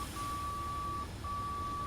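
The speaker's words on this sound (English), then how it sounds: "You can also hear the beeping, which is the audio information for the glide slope." Glide slope audio beeps in a MiG-23M cockpit in a flight simulator game: a long steady tone, a brief gap, then another long tone, clear over a low background hum.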